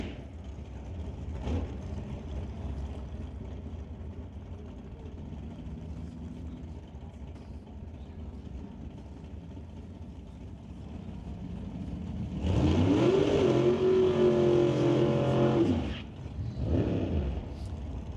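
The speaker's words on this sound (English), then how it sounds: "Terry Langdon Davies racing towards his own win light." Drag race cars at a drag strip, a steady distant engine rumble that swells into a loud revving roar near the end and then cuts off, with no talking.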